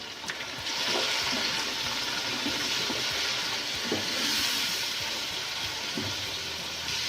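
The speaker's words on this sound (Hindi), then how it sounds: "और अब हम इस मसालों को भूनेंगे।" Spices frying in a pan while cooking beef paya (beef trotters): a steady, bright sizzle runs throughout, with occasional clinks and scrapes of stirring close by.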